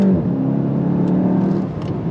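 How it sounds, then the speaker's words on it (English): A 2025 VW GTI Mk 8.5 pulls under throttle, its engine and exhaust holding a loud, steady droning growl that rises slightly in pitch, heard close up with no speech. "you do get some pops and bangs out of the exhaust, which is good"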